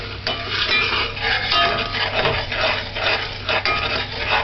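A spoon stirs plantain rundown in a pot, making continuous wet scraping and clinking against the pot with a soft simmering hiss underneath, close and fairly loud, no speech.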